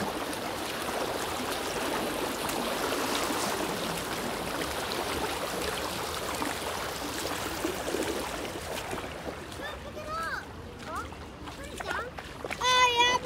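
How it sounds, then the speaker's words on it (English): Water courses and splashes in an outdoor fountain with an uneven floor, a dense continuous rushing wash that shifts in texture as the listener moves, with faint voices and a few sharp clinks near the end. "As you walk around the fountain, the sound of the water changes radically."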